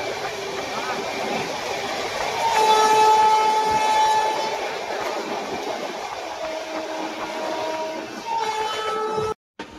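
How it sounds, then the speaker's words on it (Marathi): Indian Railways Deccan Queen express overtaking the Prayagraj express on the Mumbai–Pune line during the monsoon: steady loud rolling rumble of a passing train with a sustained horn blast, continuous and close, ending in an abrupt cut. "बघू शकता तुम्ही Deccan queen overtaking LTD Prayagraj"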